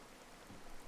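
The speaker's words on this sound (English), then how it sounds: "the heavens themselves opened and we were soaked through" A sudden downpour in the Sakura Spirit visual novel: a dense, even hiss of rain about a second long, with no voices over it.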